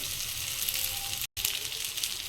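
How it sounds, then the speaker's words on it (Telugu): Vermicelli and vegetables fry in a pan for semiya upma, a steady close hiss of sizzling oil with a short gap in the middle, alone without talk. "ఇదైతే వెజిటబుల్స్తో పాటు సేమియా కూడా ఫ్రై అయిపోద్ది"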